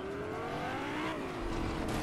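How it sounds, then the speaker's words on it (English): A car engine in Fortnite roars steadily with a rising, revving pitch, loud and close, with no talk over it. "I hear a car."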